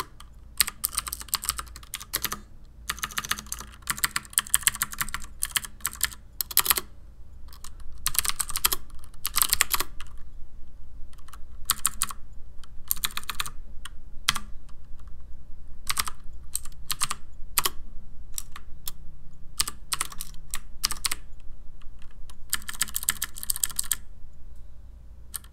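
A CM Storm QuickFire Rapid tenkeyless mechanical keyboard with Cherry MX Blue switches is typed on steadily, giving crisp, clicky keystrokes in fast irregular bursts with brief pauses, close and fairly loud, with no talking.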